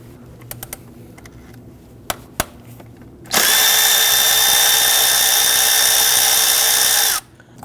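Power tool loosening and removing the 8mm bolt that holds the ignition coil on a 3.7L V6 Ford Police Interceptor Utility, a loud steady whir of about four seconds after a few faint clicks, then stopping abruptly.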